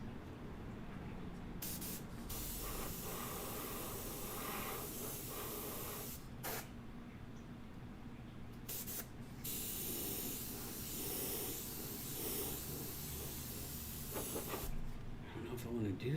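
An airbrush spraying paint for fire, smoke and neon effects, giving a near-continuous close hiss broken by brief pauses, with someone talking over it.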